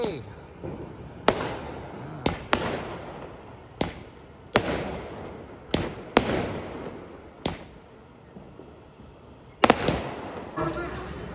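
Sharp firecracker bangs go off one after another at irregular intervals during Diwali celebrations, some close and loud, others farther off, with voices murmuring in between.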